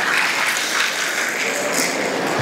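An audience at a Teacher's Day comedy show claps steadily, with dense applause filling the room from start to finish and no pause.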